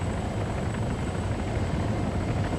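A helicopter hovers in the Arma 3 video game, a loud, steady rotor and engine roar that stays constant throughout with no pauses or voices.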